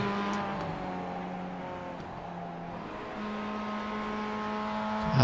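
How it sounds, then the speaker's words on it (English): A Spec-5 race car circulating on the track at Mid-Ohio, its engine droning steadily at a distance with sustained tonal harmonics that hold, dip slightly, then rise again toward the end. "One of our final cars circulating around on track."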